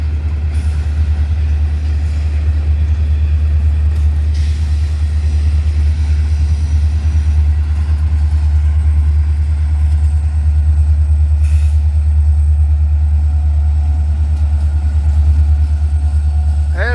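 An EMD SD70AC diesel locomotive rolls past with a steady, heavy low rumble and engine drone that holds loud and constant throughout, with faint hiss and brief higher noises on top.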